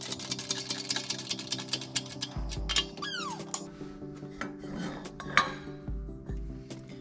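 A press brake fitted with 3D printed tooling bends 1.6mm mild steel, giving a couple of dull, low thuds and a short rising squeal against a steady background hum with light metallic clinks.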